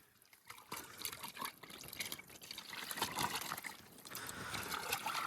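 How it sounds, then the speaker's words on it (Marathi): Chicken pieces are washed by hand in clear dam water outdoors, making close splashing, dripping and trickling sounds. The sounds come in uneven bursts over a few seconds with no talk. "चला चिकन मस्त धुवूया."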